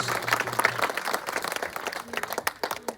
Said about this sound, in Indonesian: Tepuk tangan yang meriah untuk mengiringi pembukaan papan selubung SD dan SMP 1 atap Terpones